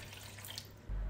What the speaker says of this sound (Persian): اول دو لیوان آب میریزیم